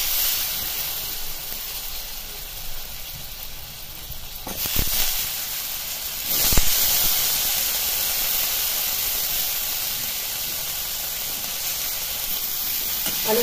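Soaked potato pieces tossed into hot spiced oil tempering sizzle and hiss in a steady, close sizzle, with two brief louder bursts as they hit the pan; no one speaks.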